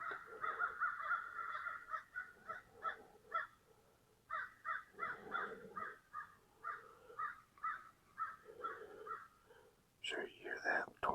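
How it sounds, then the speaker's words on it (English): Crows caw repeatedly in rhythmic bursts across a wooded hunting property in the afternoon, the harsh calls fairly close and continuous, with a brief sharper call near the end; no clear owl hoot stands out. "the Hoot Owl and the Crows. They're cutting up this afternoon."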